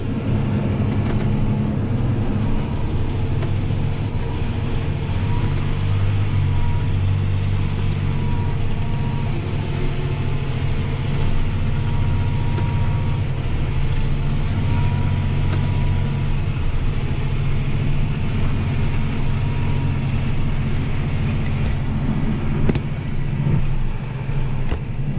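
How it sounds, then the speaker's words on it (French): A John Deere 7215R tractor drives along steadily at the end of a workday, a continuous deep engine drone with low rumble holding at even loudness throughout, no voices. "je suis en train de retourner au dépôt avec le tracteur"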